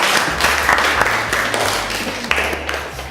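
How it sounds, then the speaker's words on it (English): Audience clapping for child performers, a full steady round of many hands at close range with a few sharper claps standing out and a low hum beneath. "Let's clap for them."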